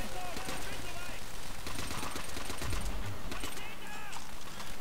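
MP40 submachine gun bursts in Call of Duty: World at War, loud rapid automatic fire in repeated volleys amid battlefield noise, with a voice talking over it.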